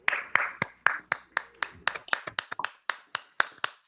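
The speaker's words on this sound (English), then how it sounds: "let's give Pedro another round of applause." Scattered hand claps from one or two people at the close of an online academic webinar talk on Poisson geometry, about fifteen sharp separate claps in a loose uneven rhythm, close to the microphone and with no talk over them.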